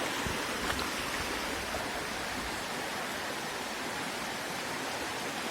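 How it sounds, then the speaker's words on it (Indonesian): A modest, not very swift river flows over flat rocks at the foot of Mount Wilis on the Tulungagung–Kediri border. It makes a steady, even rush of water with no voices over it. "Ini sungainya tidak begitu deras"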